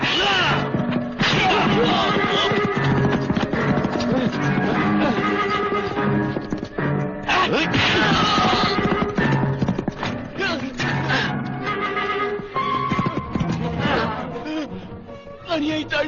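A horse whinnies loudly in a martial arts film soundtrack, hooves clattering among crashes and thuds under swelling dramatic music, with voices breaking in throughout.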